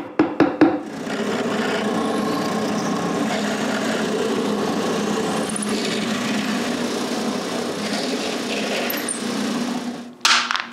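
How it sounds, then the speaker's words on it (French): A drill bores pilot holes for screws into wood with a steady whirring, grinding hum lasting several seconds, framed by short clicks and handling knocks at the start and end. "J'utilise les dessous pour marquer où percer les trous pilotes pour les vis"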